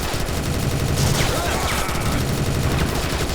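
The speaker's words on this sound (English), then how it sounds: "How many of these anti-aircraft bullets can you take?" Anti-aircraft gunfire in the video game TimeSplitters 2 Redux, a dense, continuous rattle of rapid shots running loud throughout with game noise layered in.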